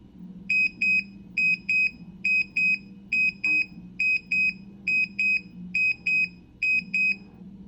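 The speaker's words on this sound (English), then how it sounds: "It's gonna beep." Electronic beeping from a small LED clock kit, paired high-pitched beeps repeating steadily about once a second, fairly loud over a low background hum.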